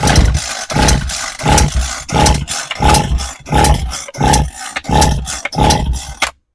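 A Homelite string trimmer's small two-stroke engine is pull-started again and again, about ten rhythmic cranking bursts that sputter but never catch, loud and close.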